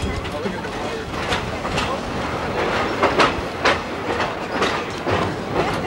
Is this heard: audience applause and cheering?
no